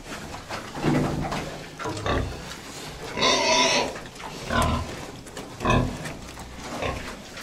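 Pigs kept at home grunt and squeal close by in repeated bursts, several animals snorting and oinking at an irregular pace around a trough.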